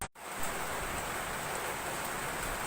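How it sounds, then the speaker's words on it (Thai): Steady broadband hiss of rain falling continuously, close and fairly loud, with no voices, during a rainy-day meal outdoors in Thailand. "มาทานบรรยากาศฝนตกกันเบิ้งนะคะพี่น้องคะ"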